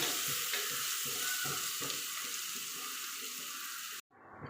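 Onions sautéing with salt in a pan for chicken kurma, a steady dense sizzle with soft stirring scrapes and clinks, close and continuous, then cutting off abruptly near the end.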